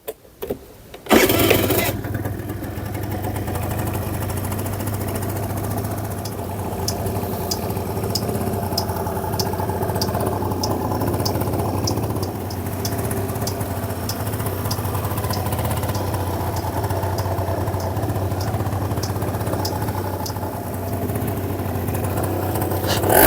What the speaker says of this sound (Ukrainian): Двигун працює без жодних нарікань.